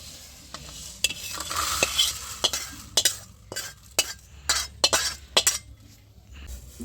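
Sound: frying and stirring spices in a pan

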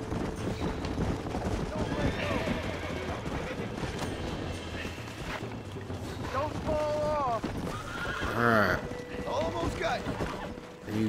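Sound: horses neighing and clip-clopping in a video game

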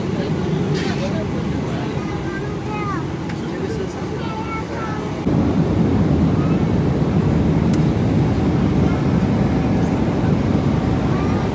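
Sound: airplane cabin noise during long flight

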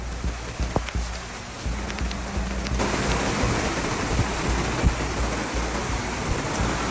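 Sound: heavy rain during floods in Danjiangkou, Hubei

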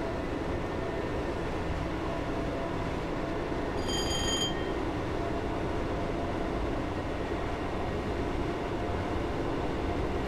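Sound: train running and wheels on rails, Train Simulator 2018 video game

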